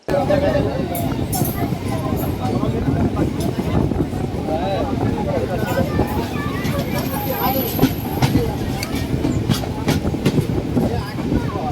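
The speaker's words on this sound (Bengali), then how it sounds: "সাঁতরাগাছি থেকে দীর্ঘ চার ঘন্টায় একশো আশি কিলোমিটার ট্রেন জার্নি সম্পূর্ণ করে" Local train running the long route from Howrah to Digha, a steady loud rumble of wheels and carriage noise with rhythmic clatter throughout, passenger chatter faintly mixed in.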